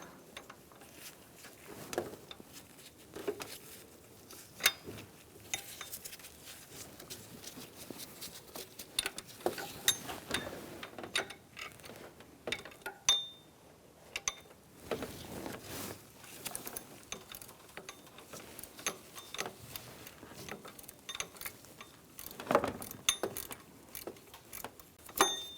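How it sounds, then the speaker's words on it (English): Close clicking and ratcheting of a wrench turning a bolt under the motor mount of a 2002-2006 Honda CR-V 2.4L, coming in irregular bursts with metallic taps and rattles. "you're going to go for the bolt down in the far corner under the motor mount."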